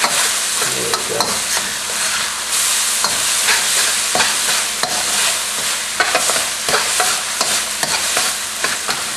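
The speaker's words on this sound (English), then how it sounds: "I'm going to saute this for another 2 or 3 minutes, get them translucent, lightly brown" Shallots, ginger and garlic sauté in a pan for a Nyonya chicken stew, with a continuous loud sizzle broken by stirring scrapes throughout.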